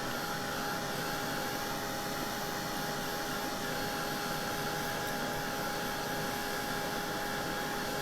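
Heat tool blowing steadily while drying wood stain on a craft journal page, a continuous broadband whoosh at close range, uninterrupted and alone for the whole stretch.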